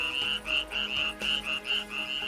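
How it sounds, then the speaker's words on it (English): A chorus of frogs croaks around a garden pool at night in Palestine, rhythmic pulsing calls repeating steadily and overlapping at moderate volume, with no voices. "we listen to the chorus of frogs and other animals around the pool"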